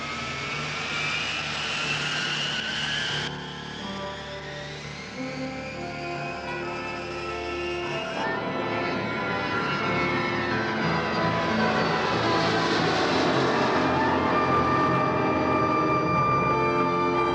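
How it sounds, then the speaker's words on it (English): An airliner taking off from the runway, its jet engines roaring loud and steady and rising in whine and pitch as it spools up and accelerates, with no voices. "Transcon 602, cleared for takeoff."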